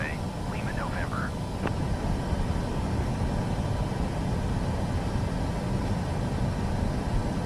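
A Boeing 737 taxiing in Microsoft Flight Simulator 2024 gives a steady, loud jet engine rumble and hiss that holds evenly throughout, with a brief chirp near the start.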